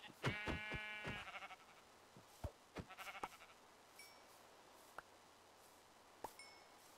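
Sheep in the Minecraft video game bleat a few times in quick succession, fairly loud and close, followed by sparse clicks and pings from the game with no talking.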